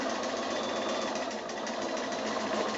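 A sewing machine runs continuously, stitching a wool felt piece into a needle case, with an even, fast mechanical whir that is close and steady throughout.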